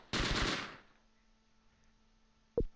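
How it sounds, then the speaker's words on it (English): Gunfire in the Close Combat World War II game Gateway to Caen: a short, loud burst of rapid machine-gun shots, then quiet and one more sharp single shot near the end. "Somewhere they're shooting"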